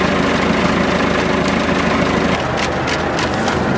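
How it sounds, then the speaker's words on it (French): Tractor engine running to drive an agitator in a clay sprayer, a loud steady low rumble with rhythmic knocking vibration, close and continuous. "Alors attention, on va mettre le tracteur en marche là."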